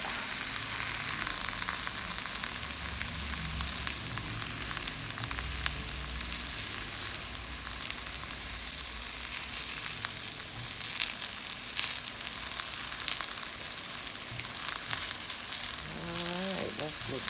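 Shrimp fried rice with cabbage frying in a pan, a steady, dense sizzle that holds loud and close throughout, with occasional stirring scrapes.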